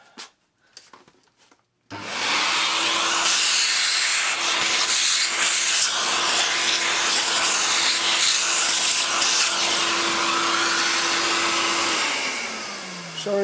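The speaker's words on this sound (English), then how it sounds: "sorry about the noise at Hoover" A Hoover vacuum cleaner runs in a workshop where a beginner's steam locomotive is being built, with a loud, steady roaring whoosh that starts abruptly after a moment of quiet handling noise and a brief spoken word, then tapers slightly at the end.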